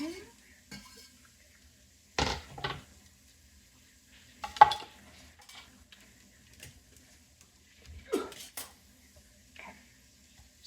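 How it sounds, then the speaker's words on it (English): Food is stirred in a pot in a few short scraping bursts of spoon against metal, separated by quiet gaps, close and fairly soft. "Just gonna mix a little bit."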